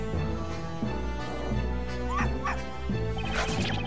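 A dog in the Professor Layton vs. Phoenix Wright video game yips, barks and whimpers in a rapid run of short, loud calls over steady game music.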